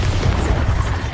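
A Bombarda spell detonates in Hogwarts Legacy: a short, loud, heavy boom with a thick low rumble that fills the whole moment.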